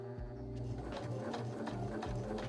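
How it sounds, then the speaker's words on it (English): A sewing machine runs a straight stitch through fabric, a steady rapid mechanical whir with rhythmic needle clatter, close and alone. "Moving to our sewing machine, I straight stitched along the guidelines I made earlier."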